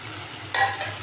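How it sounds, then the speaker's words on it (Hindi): Chicken with bottle gourd roasting in a pan gives a brief close sizzle with a sudden brighter burst of frying or a stir midway, short and unaccompanied by speech. "इतनी ज़बरदस्त भुनाई हो रही है"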